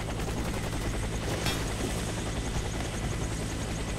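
Helicopter in the shooter game Warface, a steady, close rotor thump that runs the whole time, with faint gunfire mixed into the loud din.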